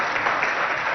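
An audience at a school event in Abéché applauds to welcome students arriving for a choreography performance, giving a brief, dense burst of steady clapping.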